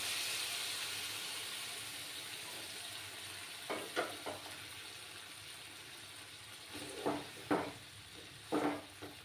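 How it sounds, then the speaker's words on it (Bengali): Hot water poured into a pan of mixed vegetables cooking with eggs sets off a steady steamy sizzle, with several short louder splashing bursts partway through; no one speaks. "এবারে আমি এটার মধ্যে গরম জল দেব, যাতে সবজিগুলো ভালো করে সেদ্ধ হয়ে যায়।"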